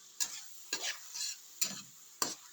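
Sauce being stirred in a pan for chicken fingers: four sharp scraping strokes spaced about half a second apart, close and crisp over a faint low sizzle, with no voices.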